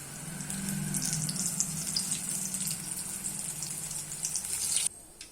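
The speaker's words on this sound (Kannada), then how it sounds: "ಇದೇ ರೀತಿ ಎಲ್ಲ ಬೋಂಡಗಳನ್ನು ಕರೆದ್ಬಿಟ್ಟು ತೆಗೆದಿಟ್ಕೊಳ್ಳಿ" Bondas made with ridge gourd fry in hot oil, a loud, dense, continuous sizzling hiss close by that cuts off abruptly near the end.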